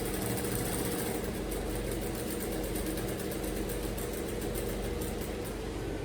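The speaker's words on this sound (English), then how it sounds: "I don't leave my material for my machine to just be sewing it" A sewing machine stitches fabric along a straight line in a steady, close mechanical hum with a rapid regular needle rattle, continuous and loud throughout with no talking.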